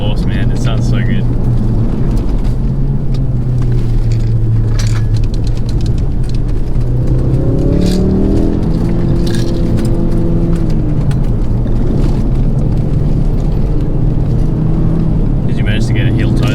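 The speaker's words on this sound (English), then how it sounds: "Can't wait to put some video on of that exhaust, man. It sounds so good." A race car's exhaust revs and drones loudly at close range, pitch climbing and falling through gear changes, with people talking over the engine noise.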